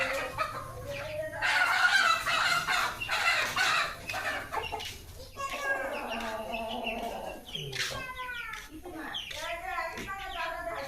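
Young frizzle chicks cluck and peep in a farm brooder, a busy overlapping chorus of chirps and short clucks, louder early on and then scattered, moderately close, with human voices faint in the background.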